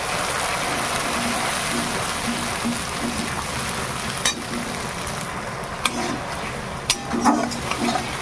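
Garlic paste fries in hot oil with a steady, hissing sizzle after a little water is added, broken by a few sharp clicks and light scraping of a utensil.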